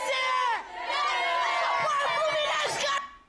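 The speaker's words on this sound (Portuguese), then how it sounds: "Tem bandeirão, a torcida cantando" Fluminense fans singing together at Laranjeiras stadium, a dense, loud mass of voices carrying a sustained chant that fades briefly near the end.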